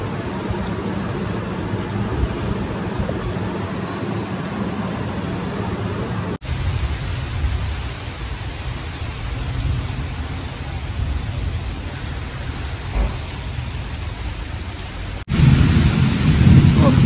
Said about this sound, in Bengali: কতদিন পর আবার বৃষ্টি হচ্ছে